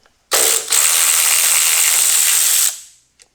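An impact tool buzzes loudly and steadily for about two seconds, right up close, backing a bolt out of a 2016 Honda F6B motorcycle during disassembly, with a brief pause early on and a short tap afterward.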